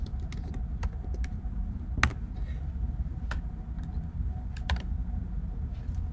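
Keys tapped on a computer keyboard while entering game-night text, a steady run of light clicks with a few sharper strokes, close and moderately quiet over faint background noise.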